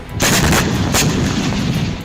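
Missile explosions from Hezbollah strikes on Israel, with loud, dense blasts and crackling rumble filling the whole stretch at close range.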